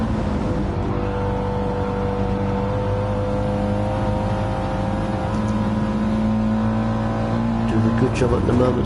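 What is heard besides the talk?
Audi TT and Mitsubishi race car engines in a racing video game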